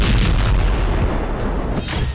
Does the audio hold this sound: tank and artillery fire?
yes